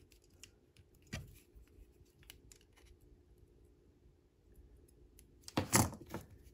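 Wire cutters snip wrapping wire close on a beginner wire-wrapped arrowhead: two sharp, crisp cuts, one early and one near the end, against a quiet background.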